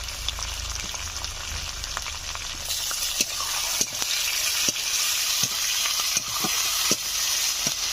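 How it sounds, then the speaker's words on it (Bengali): Ginger-garlic paste and tomatoes frying and being stirred in a pan, a steady close sizzle with repeated scraping strokes of the spoon throughout, growing slightly louder and brighter midway. "আদা রসুনের কাঁচা গন্ধটা চলে যাওয়া পর্যন্ত আমি নেড়ে চেড়ে নেব"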